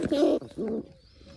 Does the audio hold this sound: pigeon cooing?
yes